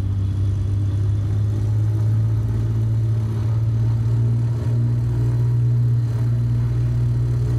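The engine of a Morane Saulnier MS733 Alcyon in Microsoft Flight Simulator, a steady loud droning hum held at high throttle with little change, alone and continuous throughout.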